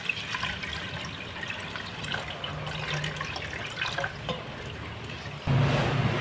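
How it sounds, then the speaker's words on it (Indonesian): Water is poured into a sugar mixture for a jelly fruit drink, a steady trickling splash running close and continuous, growing fuller and louder near the end. "Setelah itu kita tambahkan air."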